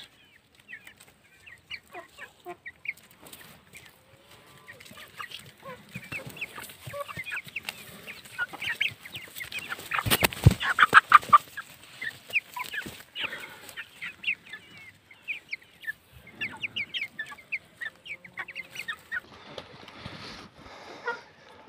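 A flock of three-month-old Brahma chickens clucking and calling in scattered bursts, getting busier and louder toward the middle, with no voices.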